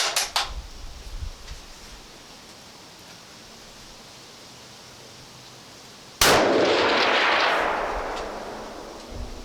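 A DPMS Miculek LR-308 rifle with no muzzle brake fires a single loud, sharp shot outdoors, followed by a long, gradually fading boom. Faint clatter and handling sounds come just before the shot.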